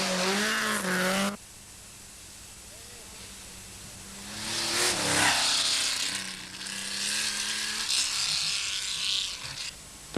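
Rally cars racing on a snowy stage, with Snijers overtaking Dumont's Nissan: a high, rising engine whine that cuts off abruptly, then another car roaring past loudly with gear changes, all under a commentator's voice.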